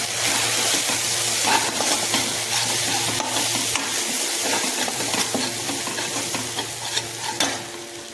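A spoon stirs mutton curry in a hot pan just after coriander powder, turmeric powder and salt go in, giving a close, steady sizzle with scraping and stirring strokes throughout and no talking.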